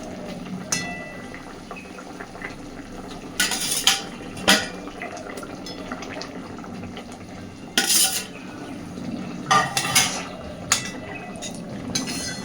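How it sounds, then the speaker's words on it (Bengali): Fried catla fish pieces added to a boiling brinjal curry in a pan, low bubbling simmer punctuated by several sharp clinks and scrapes of utensils against the pan, close and moderate in level, with no talking. "এবার আমি দিয়ে দিচ্ছি ভেজে রাখা মাছগুলো।"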